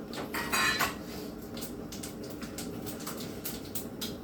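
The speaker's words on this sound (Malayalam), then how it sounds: "കടുക് ഇങ്ങനെ പൊട്ടിക്കൊണ്ടേയിരിക്കും" Mustard seeds pop and crackle in a hot pan in a home kitchen while cooking a squid roast, a quiet scatter of small sharp ticks and sizzles at irregular, fairly quick intervals with no talk.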